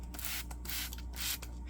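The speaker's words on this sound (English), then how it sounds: "I'm just going to use the water to spray it off" Water sprayed onto aquarium plants and a log while setting up a Fluval Flex tank, heard as close hissing mist bursts that swell and fade in several uneven pulses, with no talking.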